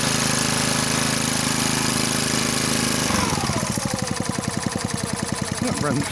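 Small engine on a wood splitter, freshly fitted with a replacement carburetor, droning steadily, then after about three seconds settling into a rapid, even chugging idle, loud and close, with people talking over it.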